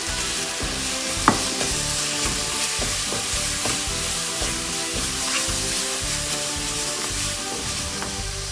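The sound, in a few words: spices and masala sautéing in oil in a pan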